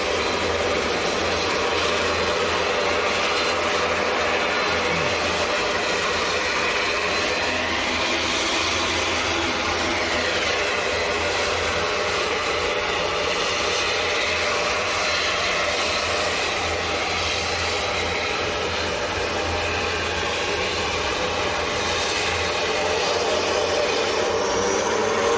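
An ATR turboprop at Manchester Airport runs its engines with a loud, steady droning hum and buzzing propeller tone that holds throughout without a break.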